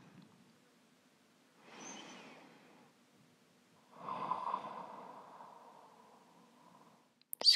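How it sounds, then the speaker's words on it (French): Ujjayi yoga breath drawn through the nose with the tongue pulled slightly back in the throat, two slow soft rushing breaths with a wave-like hiss, the second longer, close and quiet in an otherwise silent room. "engager la respiration Ujjayi, qui consiste à reculer légèrement la langue au fond de la gorge, respirer par le nez"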